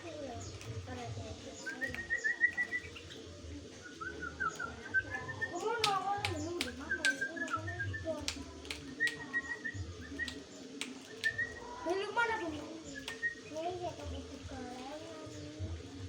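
Tame sooty-headed bulbul (kutilang) giving repeated short whistled calls and chirps at moderate distance, intermittent over a low background with people talking quietly nearby.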